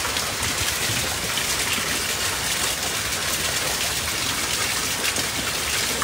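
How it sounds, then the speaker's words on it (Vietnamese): A steady rain shower falls on a garden in Vietnam, a dense, even hiss of drops that continues unchanged throughout, with no voices. "ông đã cho một trận mưa"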